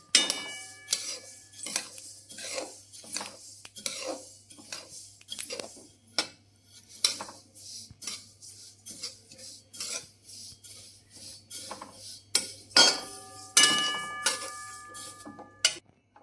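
Sesame seeds roasting in a pan for tal sakdi, scraped and stirred with a metal spoon, giving irregular clinks and rasping scrapes in uneven bursts, close and fairly loud, with a faint steady hum underneath.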